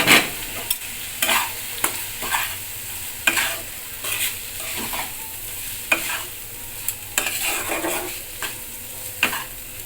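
Red lentils tipped into a pan of fried spices for a Bengali muri ghonto with katla fish head, stirred with repeated scraping strokes over a steady close sizzle, no voices.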